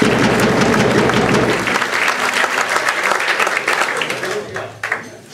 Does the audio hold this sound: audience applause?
yes